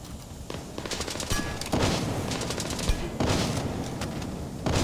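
Gunfire in the video game Splinter Cell: Blacklist, several bursts of rapid shots and loud single cracks, sharp and close, with brief pauses between volleys and no talking.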